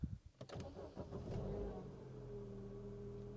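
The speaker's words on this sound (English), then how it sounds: "Let's get in, let's start it up." A used car's engine cranks after a few door and cabin clunks, then catches and settles into a steady low idle rumble heard from inside the car, with no voices.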